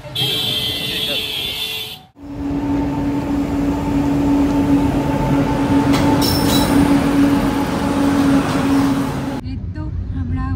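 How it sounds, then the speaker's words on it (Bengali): A train departs and rolls along its rails, a steady loud rumble with a sustained tonal hum heard from on board, following a brief louder announcement-like passage at the start and a sudden cut near the end. "ট্রেন এখন ছেড়েও দিয়েছে"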